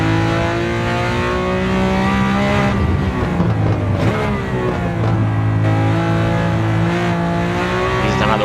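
A Lamborghini Countach 500S Walter Wolf Special roars flat out in a racing video game, its engine note rising through the gears with a shift midway, loud and close.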